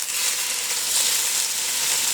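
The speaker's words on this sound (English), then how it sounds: "So that's the first time I've ever put any food inside a pan where I have the nice sizzle because it's hot." Food sizzles steadily in a hot pre-seasoned Yosukata carbon steel wok, a dense, even hiss that is close and loud with no pauses.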